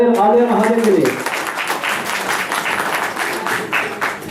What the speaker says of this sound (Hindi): तो जोरदार तालियां आलिया महाजन के लिए।